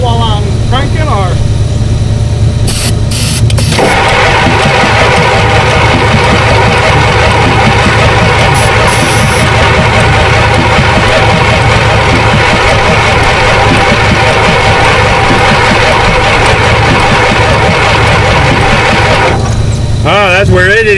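A 7.3 IDI diesel engine cranks over on starting fluid without firing, a steady, heavy mechanical churn that runs almost without break for about twenty seconds, with voices talking over it.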